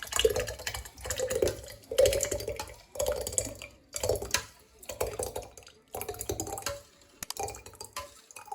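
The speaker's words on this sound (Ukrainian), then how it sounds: "Тому переливаю в баночку. Зараз допоможу собі ложечкою." Raw adjika sauce being spooned from a pot into a glass jar: repeated soft wet scrapes and light clinks of a spoon against the container, in short bursts roughly every second, close and fairly quiet.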